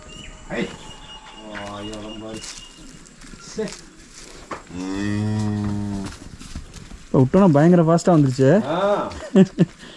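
A cow moos several times in long, drawn-out calls while being milked on a forest farm, close and loud, with a person talking between the calls.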